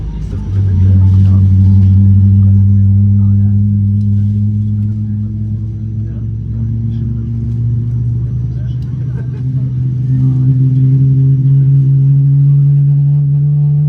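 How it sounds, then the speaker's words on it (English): GE90 jet engine spinning up on an Emirates Boeing 777-300ER, heard from inside the cabin as a loud, steady low drone with tones slowly rising in pitch over about fourteen seconds. "I'll now let you enjoy this GE90 Startup."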